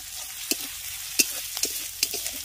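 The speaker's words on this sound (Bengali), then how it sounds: "আদা রসুনটা দিয়ে পেঁয়াজের সঙ্গে একটু ভালো করে ভেজে নিচ্ছি" Ginger and garlic fry with onion in a pan under a soft steady sizzle, broken by several sharp scrapes and taps as the mixture is stirred.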